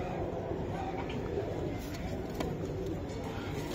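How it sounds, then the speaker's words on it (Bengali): Racing pigeons at a club loft coo faintly amid a steady, noisy background, with no clear talk over them. "দর্শক এই যে কবুতর দুইটা দেখেন আপনারা"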